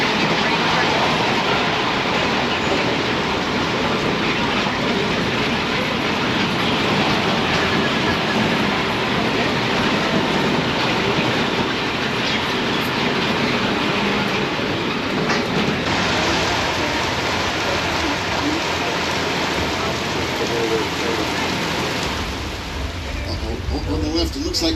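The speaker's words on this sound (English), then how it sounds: "it looks like a flash flood heading straight for the tram" A simulated flash flood rushes at a tram on the Universal Studios Hollywood backlot tour. Loud, steady rushing water roars continuously for the whole stretch, with only a slight change near the end.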